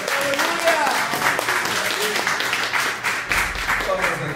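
A church congregation applauding, a dense spread of clapping that runs under a voice speaking and crowd sounds for the whole stretch.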